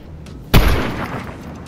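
A single loud boom from gunfire and explosions in a battle royale video game erupts after a quiet moment and trails off into a long rumbling decay.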